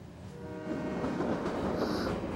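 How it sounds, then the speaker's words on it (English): A train rumbles steadily along, its low mechanical drone building slightly, with a faint high squeal near the end. "It's really the train that's moving, Caillou."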